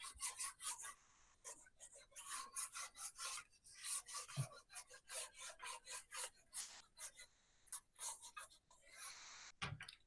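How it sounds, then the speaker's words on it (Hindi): A board being erased with rapid scrubbing rubs in quick bursts, soft and close, with brief pauses between strokes. "इसको मैं मिटा दे रहा हूं।"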